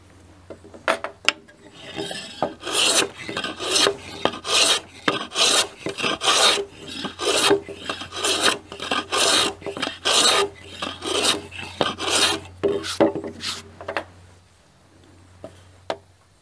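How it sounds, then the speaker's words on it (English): A timber girder for a covered bridge is cut by hand with a saw to shorten it, giving a steady run of rhythmic rasping strokes, close and loud, with no talking. "I'm going to cut some of this timber off to shorten the length of it a little bit."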